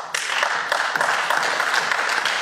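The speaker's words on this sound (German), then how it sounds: "Applaus" Applause in a parliamentary chamber during a debate: dense, steady clapping from many hands that fills the whole moment at an even level, with no voices over it.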